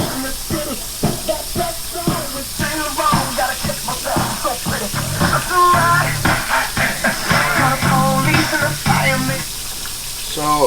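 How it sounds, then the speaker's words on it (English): A UE Boom portable speaker held under running tap water while playing music. Rhythmic, slightly muffled music carries over a steady hiss of splashing water. "the UE boom was just ran underwater itself"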